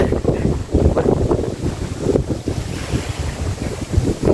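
Strong wind blowing at sea while fishing off a shore in Laos, roaring and buffeting the microphone in gusts, with waves churning underneath, loud and continuous.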